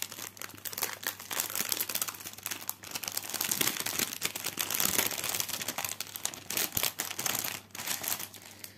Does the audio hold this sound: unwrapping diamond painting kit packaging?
yes